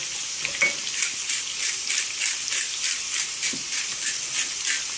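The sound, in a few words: frying potatoes stirred in oil with garlic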